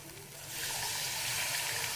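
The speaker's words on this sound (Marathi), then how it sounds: "त्याचं पाणी मी अंडा करीला अंडा मसाल्याला घालणार आहे" Chicken stock poured into a hot pan of egg masala, a soft wet rush swelling into steady loud sizzling and bubbling that holds to the end, heard alone.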